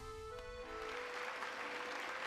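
A game crowd in Hollow Knight applauds after the Grimm boss is defeated: sustained, dense clapping at a fairly steady level that swells slightly over a faint lingering tone, with no voices.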